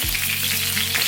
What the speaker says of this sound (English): we're going to fry this around for just like 4 minutes, you know, just to kind of give it a nice coating